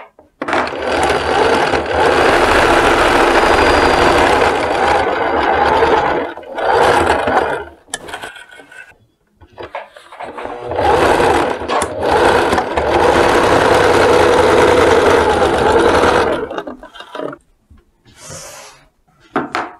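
A sewing machine stitches a denim skirt pocket through three layers at a 0.5 cm seam, running in two long, steady bursts with a short pause and some handling noise between them.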